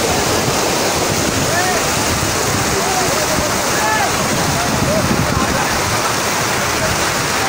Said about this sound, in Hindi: देखें पानी की स्पीड